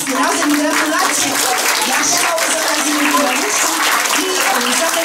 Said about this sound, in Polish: Duże brawa